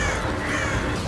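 A crow caws loudly and harshly, close by, in one continuous rasping call over a dense noisy background.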